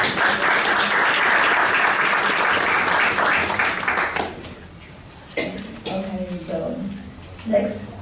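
Steady, loud audience applause at a health talk fills the first four seconds and then fades out, leaving a person speaking over faint room murmur.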